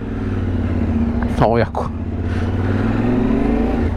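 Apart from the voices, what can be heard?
motorcycle being ridden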